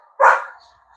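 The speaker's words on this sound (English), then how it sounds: "stop your barking" Lucy the dog lets out one loud, close bark, a single sharp burst that trails off quickly into quiet, heard while prepping black duck decoys outdoors.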